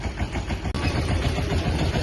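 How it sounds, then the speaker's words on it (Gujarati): A stopped tractor's engine idles in a steady low rumble with a faint vibrating throb, close and continuous, broken by one brief dropout near the start. "ટ્રેક્ટર ઉભું રાખી દીધું."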